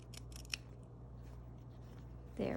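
Scissors snip fabric for a homemade breathable face mask, cutting inside a stitched triangle: a few quick, quiet snips near the start, followed by soft handling noise.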